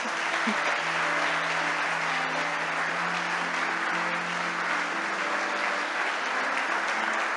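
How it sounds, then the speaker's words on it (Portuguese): Sustained applause from a large church congregation, steady and dense throughout, with a faint musical tone humming underneath. "Eu queria que você aplaudisse Jesus Cristo"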